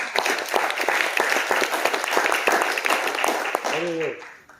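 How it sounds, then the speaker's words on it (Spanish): Church congregation applauding together, a dense steady burst of clapping from many hands that fades out near the end, with a brief voice at the close. "Vamos a darle un aplauso al Señor"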